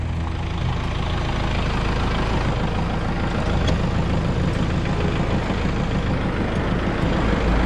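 A tractor with pallet forks runs close by while lifting a heavy Jotul F500 Oslo wood stove, a steady loud low diesel rumble that holds without pause throughout.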